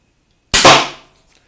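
A 90 lbs Steambow crossbow fires a single bolt, one sharp loud crack with a brief fading ring afterward, close and alone.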